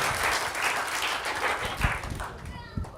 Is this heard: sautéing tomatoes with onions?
no